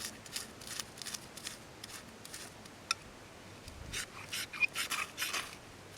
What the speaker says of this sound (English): Just scraping back some of the paper bark.